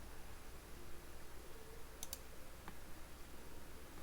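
A computer mouse clicks while steel frame sections are set up in Robot structural software: two quick clicks in close succession, then one more a moment later, all faint against a steady background hiss.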